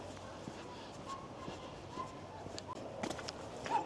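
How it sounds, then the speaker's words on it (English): Several dogs bark faintly in the distance at Marton Moss, Blackpool, scattered yips and barks over a quiet outdoor background. "I can hear a lot of dogs barking."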